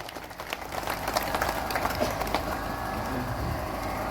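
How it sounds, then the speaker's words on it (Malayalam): Audience at a health club's hundred-day celebration in a Kerala family health centre applauds the panchayat president, a dense, steady wash of clapping that swells and holds at moderate loudness throughout. "വരുന്ന എല്ലാവരും ഒന്ന് കൈയടിച്ച് അദ്ദേഹത്തെ"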